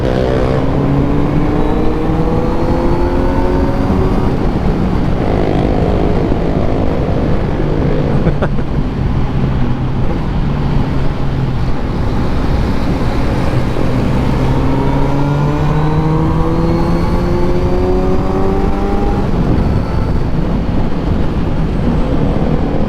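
A motorcycle engine runs steadily and revs up and down in close, loud, continuous drones, suggesting an onboard ride on a Brixton bike, with rising and falling pitch sweeps and no clear talk.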